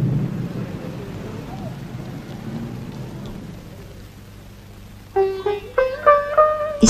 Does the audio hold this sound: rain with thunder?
yes